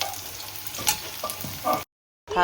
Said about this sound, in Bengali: ইলিশ মাছের তেলে এই হয়ে গেল লঙ্কা পেঁয়াজ ভাজা